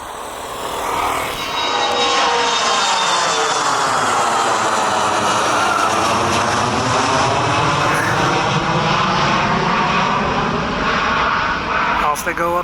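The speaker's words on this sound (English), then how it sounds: "The VH-92 coming into a landing at Anacostia Air Station. That's the new Marine One." A VH-92 Marine One helicopter comes in to land at Anacostia, its loud rotor and engine roar steady and close for over ten seconds, with a sweeping, shifting drone as it descends.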